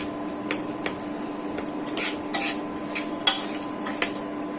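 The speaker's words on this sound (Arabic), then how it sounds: "هلا بدي اقلب كل هدول" A spoon stirs rice and peas in a cooking pot, making irregular metallic clinks and scrapes against the pot over a soft steady hum, close and fairly quiet.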